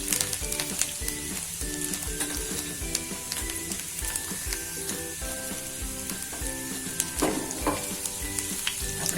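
Chopped garlic frying in hot oil for a dry okra and potato curry, a dense continuous sizzle with occasional scraping and stirring clicks from a spatula, close and steady.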